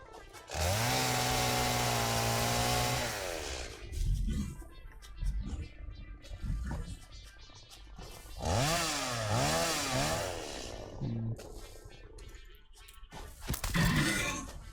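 A biofuel-powered chainsaw in the game Satisfactory revs loudly at first with a steady whine, then drops to choppy idling. It rises again in several wavering revs before falling quiet, with a final short burst at the end.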